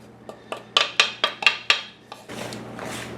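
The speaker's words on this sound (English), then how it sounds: "I'm stirring the flour and the salt and the cinnamon and the baking soda into the batter" A utensil clinks sharply against a bowl in a quick series of about seven metallic knocks while flour, salt, cinnamon and baking soda are stirred into oatmeal cookie batter, followed by a softer scraping rustle.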